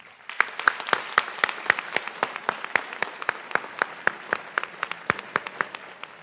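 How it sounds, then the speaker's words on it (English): Small audience at a board of education public session claps for the boys track team, distinct, evenly spaced claps from a modest group in a hall, continuing steadily. "just a big round of applause for these gentlemen"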